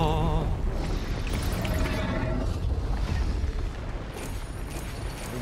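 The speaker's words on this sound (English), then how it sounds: "Oh god, flashbang." A flashbang grenade goes off in the video game Naraka Bladepoint, giving a loud, dense blast that is already at full level at the start and then holds as a sustained roar and ringing wash for several seconds.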